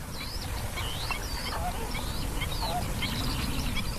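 Migratory geese call in Doñana, repeated honking and quacking cries rising over a steady wash of wind and wetland noise, several birds at moderate distance.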